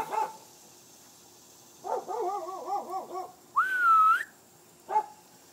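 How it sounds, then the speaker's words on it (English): Dogs bark nearby in short bursts: a single sharp bark, then a run of quick yipping barks, a high whistle-like whine, and one more bark, each separated by quiet pauses. "Dogs are going to bark."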